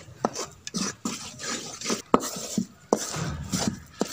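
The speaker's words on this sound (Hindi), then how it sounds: "चमचे को आपने लगातार चलाते जाना है" A spoon scrapes and clinks against a pan, stirring besan barfi mixture continuously in a quiet, irregular rhythm of sharp metallic taps and softer sweeps.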